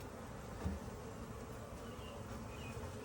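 Honey bees hum in a newly opened nucleus hive package, a steady, quiet, close buzz that continues throughout without talking.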